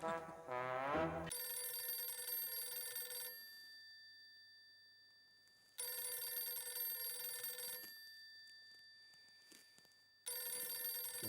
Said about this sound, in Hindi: मेहता साहब का फोन है